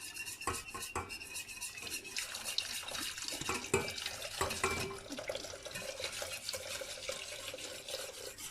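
A whisk clinks and scrapes rhythmically against a metal pot, steady stirring with light clatter and a faint watery swish throughout.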